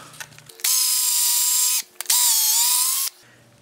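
A power drill bores into wood through a pocket hole jig in a home workshop, making two loud sustained whining runs, each over a second long, separated by a brief pause, with no speech.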